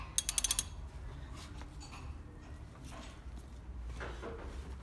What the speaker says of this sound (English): we're going to turn the crank